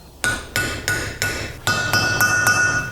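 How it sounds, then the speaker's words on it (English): A hammer drives a deep socket to tap new valve stem seals into a cylinder head during LS3 engine work for a Toyota GT86 swap. About eight sharp, close metallic taps ring out at an even, unhurried pace. "I'm just gonna use a hammer and a deep socket to gently tap them home."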